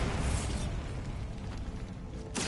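Bombarda explosion spell going off in Hogwarts Legacy, a dense roaring burst of rumbling noise that fills the whole moment and then cuts off sharply, loud and close.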